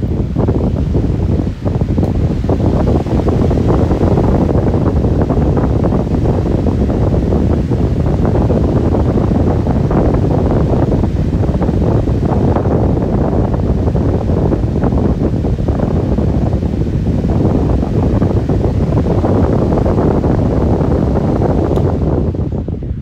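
A Polar Aire 18-inch high velocity fan runs at full power: a loud, steady, broadband rush of moving air with a low rumble, heard close and unbroken throughout with no talking.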